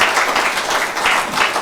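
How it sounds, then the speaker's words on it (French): A church congregation applauds during a Sunday service, a steady wash of many hands clapping that fills the whole short stretch at an even, fairly loud level. "Est-ce qu'on peut applaudir pour la parole du Seigneur?"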